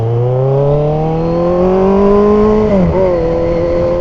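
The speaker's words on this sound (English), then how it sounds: "it's definitely going to pick up the noise from this motorcycle because she loud" A loud motorcycle engine revs up close, its pitch climbing steadily under acceleration, then dipping briefly as it shifts before rising again.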